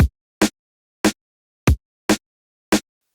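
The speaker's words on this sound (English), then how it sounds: "and together the kick and snare sound like this." Layered kick and snare samples for early-90s breakbeat hardcore, programmed in Ableton Live, hit alone in a steady alternating pattern: six punchy, dry hits with deep low thumps and bright snappy tops, close and loud.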